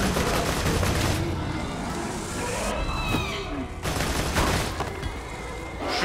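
Gunfire in the video game Borderlands 2 comes as bursts of rapid shots and blasts over a constant loud game soundscape, with brief whooshing effects.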